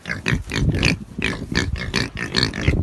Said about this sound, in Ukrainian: Наш кнур.